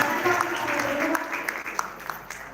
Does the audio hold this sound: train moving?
no